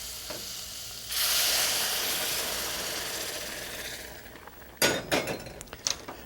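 Boiling water is poured into a pot of rice and peas on the stove. A loud hiss and sizzle swells and then fades, followed by a few clinks of metal and glass near the end.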